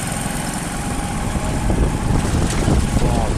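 Motorcycle taxi engines idling and puttering on a street in Dédougou, a steady close low rumble with slight unevenness, with no talk.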